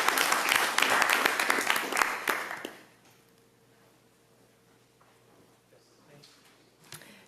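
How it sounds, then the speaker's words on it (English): Meeting attendees applaud the speakers at an annual commission session, a burst of many hands clapping that fades out after about three seconds, leaving quiet room tone with a small knock near the end. "a round of applause for all our great speakers"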